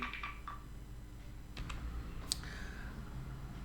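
The F3 key on a computer keyboard is pressed, giving a few faint, sharp plastic clicks spaced apart against a quiet room background.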